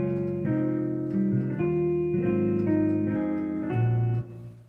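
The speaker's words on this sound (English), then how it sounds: "So a lot of my music will take a guitar sound like this" A synthesized guitar tone plays a series of sustained chords in a steady progression, shifting harmony every second or so, with light reverb and no voices.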